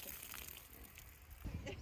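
Wet sponge tied to a string squelching and soaking up pooled water from a tarp at an archaeological dig, with soft sloshing and trickling and a louder splash near the end, close by and brief.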